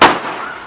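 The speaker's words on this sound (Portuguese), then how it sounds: "O homem tá atirando." One sharp, loud gunshot from a man firing on a street along the Santarém waterfront cracks out abruptly and fades into a short echoing tail.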